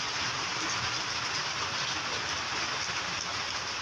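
Heavy monsoon rain pours steadily onto a tree and the ground outdoors, a dense, continuous hiss that stays loud and even throughout with no voices.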